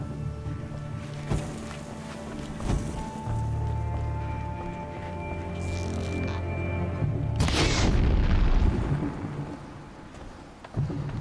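A loud explosion in the action game Horizon Zero Dawn bursts out during a fight with a big robot, a heavy rumbling blast with crackling debris over low game music and effects.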